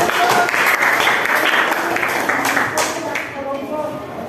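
Audience applause at a university teaching-performance session, a dense burst of many hands clapping close by that gradually thins and fades toward the end.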